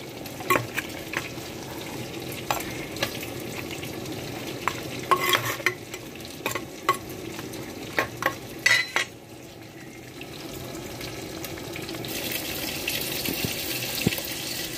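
Red fish pieces being turned and cooked with masala in a clay pot for a fish stew: a continuous close sizzle with irregular clicks and scrapes from the stirring spoon, and no voices.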